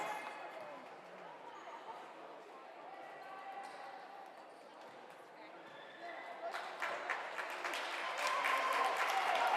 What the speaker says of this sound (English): a warm ovation from her home crowd here at the Kane Center